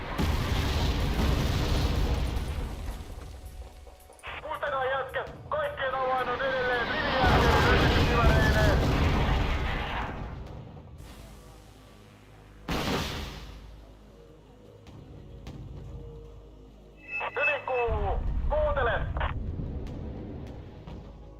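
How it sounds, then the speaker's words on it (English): Artillery barrages land in the wartime strategy game WARNO: deep booming explosions and rumbling blasts roll in several waves, with sharp impacts and lingering rumble between them. "Here comes the artillery."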